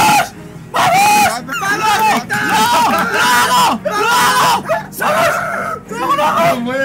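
A few people screaming and yelling excitedly in a room while playing a game, loud overlapping shrieks in repeated bursts with brief pauses between them.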